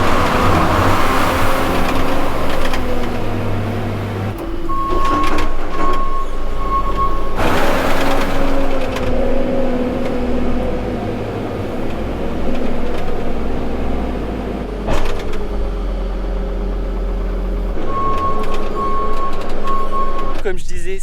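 A farm loader working near a truck while reloading triticale grain, a steady engine drone with repeated reversing beeps and surges as each bucket load goes in, someone talking over it.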